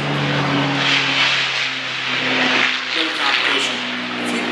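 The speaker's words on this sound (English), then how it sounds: "Keep those doggone airplanes quiet" Propeller warbirds at an air show, such as an F6F Hellcat and a Corsair, drone steadily with a low engine hum and a broad roar, loud and continuous throughout.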